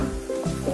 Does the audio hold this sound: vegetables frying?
yes